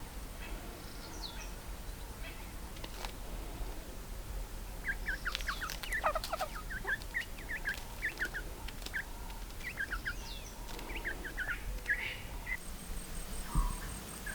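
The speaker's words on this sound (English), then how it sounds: "the signature call of the Scots owl echoing through the night" A scops owl calls at night at a camp in Kruger National Park, South Africa, its short calls sounding among repeated bird chirps over a steady background of insects and crickets, with faint indistinct voices in the distance.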